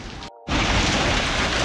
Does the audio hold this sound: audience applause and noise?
no